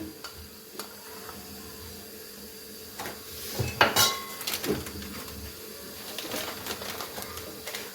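A spoon stirs cornstarch and custard powder into boiled milk, making faint clinks and scrapes against the pot. A brief cluster of louder metallic clatter comes midway, over a quiet background hiss.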